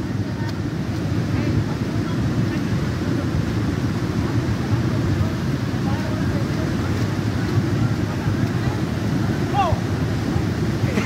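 Floodwater rushes in a continuous low, dense roar with gusts of wind against the microphone. The churning surge stays steady and loud throughout, and a few faint voices are mixed in.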